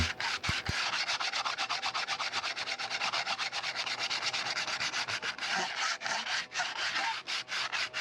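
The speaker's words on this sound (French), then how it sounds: "on finit au ponçage avec une cale dure pour redonner quelque chose de clean" A hard sanding block rubs back and forth over a boat porthole fitting in fast, regular strokes, each a close, loud scratchy rasp, continuing steadily without talking.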